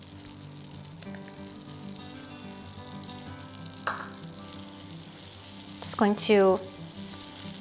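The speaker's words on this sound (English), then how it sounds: "we're going to add in half of our minced garlic" Minced garlic sizzles in melting butter in a non-toxic frying pan while cooking a vegan pasta sauce: a steady, close frying hiss throughout, with a short spoken phrase near the end.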